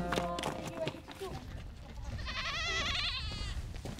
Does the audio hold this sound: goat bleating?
yes